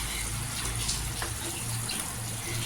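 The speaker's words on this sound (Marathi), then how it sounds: "इथे अर्धा पेला मी पाणी टाकलेलं आहे" Water splashes and gushes steadily in a continuous noisy stream, close by, with a low hum underneath.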